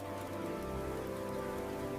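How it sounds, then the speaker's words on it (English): Rain falls steadily on a surface, giving a dense, even hiss of drops that stays constant for two seconds without any voices. "Why don't we go on a rainy adventure together?"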